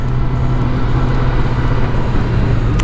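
A tuned 2019 Kawasaki ZX10R motorcycle engine while riding, a loud steady drone with constant low rumble and wind roar, no speech.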